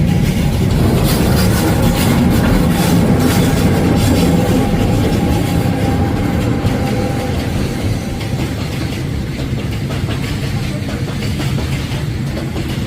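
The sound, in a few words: freight train passing by station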